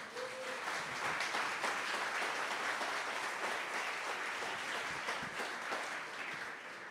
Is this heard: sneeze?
no